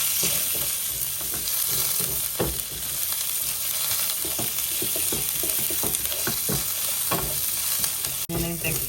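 Garlic and onion fry and sizzle steadily in a pan, with frequent stirring scrapes and clinks running through the whole stretch; nobody speaks over it.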